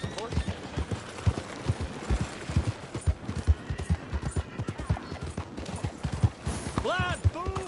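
A group of horses gallops in the Red Dead Redemption 2 video game, with rapid, dense hoofbeats pounding close and steady throughout and a brief whinny near the end, under faint background game noise.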